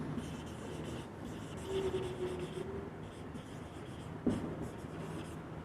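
A teacher writes on a classroom board during a physics lesson, making a continuous scratchy rubbing sound with a brief sharper tap near the end, and no talking.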